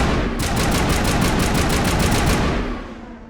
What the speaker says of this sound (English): Normal shotgun.